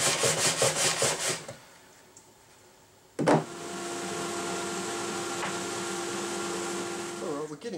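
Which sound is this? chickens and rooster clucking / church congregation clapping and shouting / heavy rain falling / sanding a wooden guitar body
sanding a wooden guitar body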